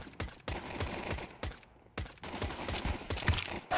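Rapid gunfire in Counter-Strike 2 on the Mirage map, a string of sharp close shots in quick bursts with brief gaps, loud and dense throughout.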